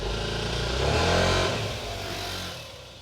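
All-weather scooter engine accelerating out in wet weather, a steady mid-pitched engine roar that swells loudly and then holds, close and continuous with no talk over it.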